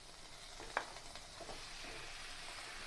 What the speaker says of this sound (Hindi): अब इसमें डाल देते हैं टमाटर।